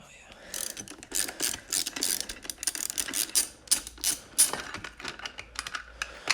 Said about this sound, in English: I have to get my wrench on there.